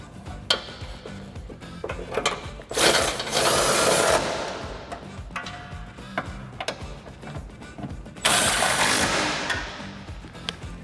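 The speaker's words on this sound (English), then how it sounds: "I'm going to take my 13 millimeter socket on my gun," An impact gun with a 13 mm socket tightens bolts on sway bar hangers of a 2008-2022 Dodge Challenger, two loud sustained rattling bursts with quieter workshop clatter between them.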